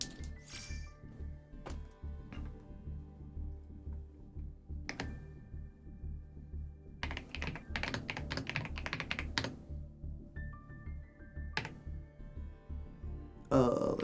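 Computer keyboard clacking in bursts of rapid keystrokes during an online card game duel, fairly close and steady with short pauses and occasional clicks, under faint background voice.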